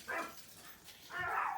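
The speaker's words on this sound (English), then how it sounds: "And now that's the dogs." Two short, muffled dog barks a second apart, fairly faint and a little distant, with quiet in between.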